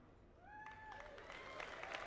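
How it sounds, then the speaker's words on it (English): A BlizzCon audience cheers and applauds at the Diablo 4 announcement, a faint, distant swell of crowd noise that builds steadily, with a thin rising tone over it. "You hear a little bit of cheering"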